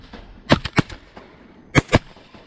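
Gunfire in a video game, several sharp, loud shots in two quick bursts, three close together and then two more a second later.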